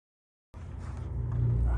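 A Dodge Monaco engine cranks over on a weak starter, a low, labored churning that begins abruptly after a moment of silence and grows slightly louder, heard up close without speech.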